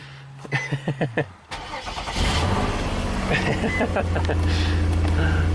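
A Nissan Maxima engine with a misfire, after an engine swap, cranks with several quick rhythmic chugs, briefly pauses, then fires up and settles into a steady, loud idle.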